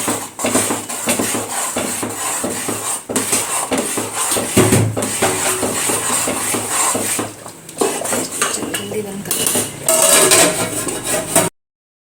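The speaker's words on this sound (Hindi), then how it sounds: "एक हाथ से सूजी डालते हैं ना, एक हाथ से ऐसा हलाते हैं" Semolina being stirred for upma in a metal pan, with a spoon repeatedly scraping and clattering against the pan in a steady, busy rhythm, close and fairly loud throughout.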